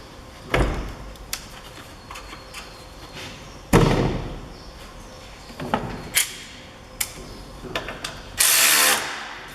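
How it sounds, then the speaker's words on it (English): A ratchet tightens the battery clamp on a Mini Cooper R56, with short bursts of clicking pawl action separated by pauses and a few louder knocks, all close by. "So refit the battery clamp."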